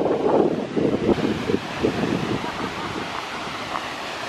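A waterfall in Iceland, out of view and throwing up mist, gives a steady broadband roar at middle distance, buffeted by gusts of wind on the microphone.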